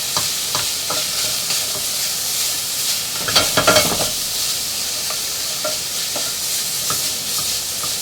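Ginger and garlic being stirred in a hot frying pan: a steady, close sizzle with scraping utensil strokes and a brief burst of louder clatter midway.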